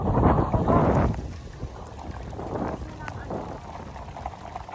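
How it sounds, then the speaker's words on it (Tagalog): Heavy wind buffeting the microphone in low rumbling gusts, strongest at first and then easing, with people talking underneath, beside a lake where tilapia are farmed in Capiz. "Lumakas bigla yung hangin"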